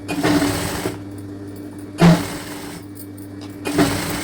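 A sewing machine stitches a baby girl's frock in short bursts, with three distinct runs of close, steady mechanical whirring separated by quieter pauses.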